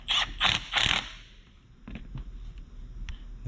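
A ratchet wrench turning a 12mm socket during a Ford F-Series stereo installation: three loud, quick bursts of clicking, then a pause and several sparser, fainter ratchet clicks, close to the listener.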